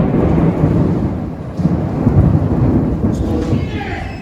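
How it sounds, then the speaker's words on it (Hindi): Heavy rain pours with deep rolling thunder, heard from inside a building during a storm at Masjid al-Haram in Mecca, a loud continuous roar with low rumbles swelling throughout. "बादलों की गरज जो है ना वो यहाँ तक अंदर बिल्डिंग के अंदर भी सुनाई दे रही है।"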